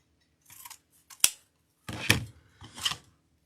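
Scissors snip through wreath ribbon to make a dovetail cut, close and crisp: a few soft cuts, then a sharp single snip, followed by two longer, louder slicing cuts.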